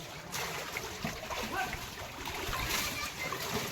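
Water splashes and sloshes steadily as a child washes a tractor standing in Ganga floodwater in Barohiya village, Bhagalpur, Bihar, with faint voices nearby.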